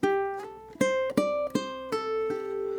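Ukulele picking a song's melody line: six plucked notes in a quick phrase, close and clear, the final note left ringing, with no talking.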